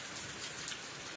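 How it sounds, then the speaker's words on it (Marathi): Heavy monsoon rain pours down in a village, a dense, steady hiss of drops drumming on surfaces that fills the whole clip at an even, loud level before cutting off abruptly. "भरपूर असा मोठा पाऊस चालू आहे"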